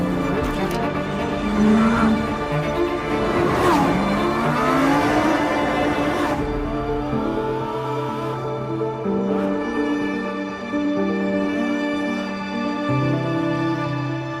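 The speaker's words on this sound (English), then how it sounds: "I feel like a child driving and drifting the Sterrato because it's so much fun" Lamborghini Huracán Sterrato driving and drifting on gravel in rally mode, its engine revving and rising in pitch, with tire noise swelling and fading as the car slides, loud and close throughout.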